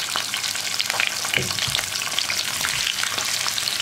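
Large kilimeen fish sizzle in hot oil in a big pan with a dense, steady crackling fry. Faint spoon or spatula clinks come through now and then, and no one talks.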